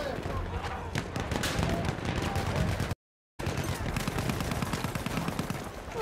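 Dense gunfire crackles and pops in the shooter game Battlefield 1, with rapid overlapping shots and bursts close by under excited player speech, broken by a brief dropout of silence midway.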